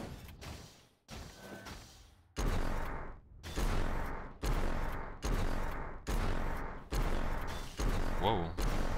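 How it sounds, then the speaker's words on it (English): In the arena shooter Reflex, rapid wall rockets fire in a run of about eight punchy blasts. Each one sets off a sharp burst with a rushing decay, spaced roughly a second apart. A commentator's voice runs faintly underneath. "he goes for wall rockets wherever he can"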